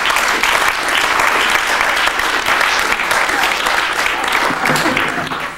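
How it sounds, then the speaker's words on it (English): A town hall ceremony audience applauds loudly and steadily, the crowd's clapping sustained and even before it starts to fade at the very end. "You can clap now."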